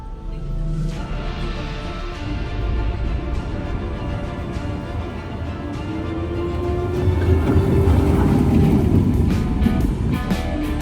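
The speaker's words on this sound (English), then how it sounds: "time for a bit of Dino Chase, which is a family small junior coaster for the little ones" Dino Chase, a small family junior roller coaster at Paultons Park, rumbling along its track with a rising whine of wheels, growing louder toward the end, no voices.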